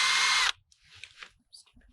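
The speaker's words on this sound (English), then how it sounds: "this is just an electric drill" An electric drill bores a tap hole into a maple tree in Ohio: a loud, steady whirring burst for about half a second that cuts off abruptly, followed by quieter handling noises.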